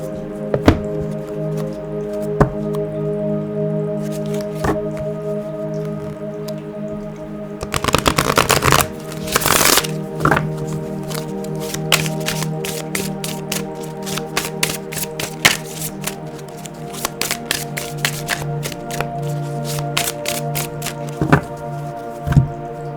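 Oracle cards are shuffled by hand in repeated bursts, crisp riffling flutters and papery snaps with scattered taps between, loud and close, one long vigorous run in the middle, no talking.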